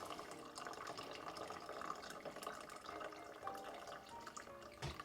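Don Julio 70 añejo cristalino tequila poured from a bottle, a soft continuous trickle and glug of liquid, faint and close, ending with a brief clink.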